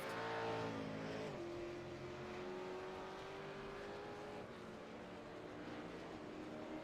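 Race cars lapping Mount Panorama circuit in a racing video game: a steady engine drone with a rising, shifting tone as a car climbs through the gears, fairly quiet and continuous, with no talk.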